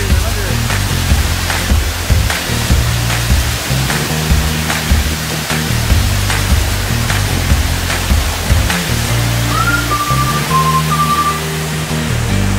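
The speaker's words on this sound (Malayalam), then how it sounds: "വെള്ളം വീണു വെള്ളം വീണു" Falling water at Khorfakkan roars as a steady, loud broadband rush throughout, with a faint whistle-like tone briefly near the end.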